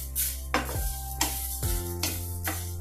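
Whole spices for homemade biryani masala powder being dry-roasted in a pan over a low flame, a soft crackling hiss broken by about five sharp scrapes and knocks of a spoon against the pan, close and without talk.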